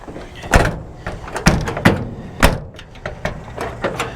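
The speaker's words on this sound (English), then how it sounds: "Gotta really slam the door there." Car door thuds and clunks at a Copart salvage yard, several sharp impacts with rattles in between, close by, no talk.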